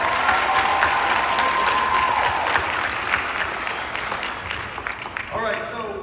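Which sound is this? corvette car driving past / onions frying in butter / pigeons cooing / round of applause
round of applause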